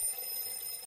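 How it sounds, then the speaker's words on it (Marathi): An alarm clock ringing, a brief, faint, steady high-pitched electronic ring lasting under a second with no voices. "घड्याळाचा अलार्म"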